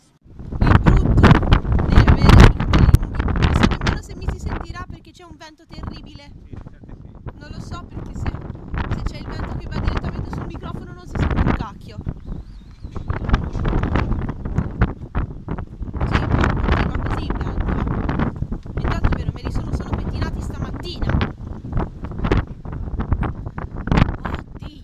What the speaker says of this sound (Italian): Il vento è questo.